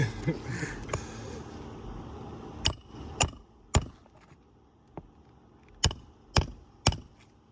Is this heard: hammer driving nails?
yes